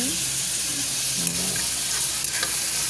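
Chicken pieces sizzle in a hot pan, a continuous bright frying hiss with a few soft stirring scrapes as they are mixed, close and steady, with no talking.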